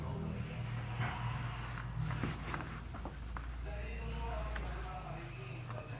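A board eraser rubs across writing in a steady run of scraping and swishing strokes, close and continuous for several seconds, with a low background hum.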